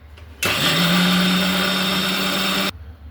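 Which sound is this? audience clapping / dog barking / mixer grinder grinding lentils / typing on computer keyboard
mixer grinder grinding lentils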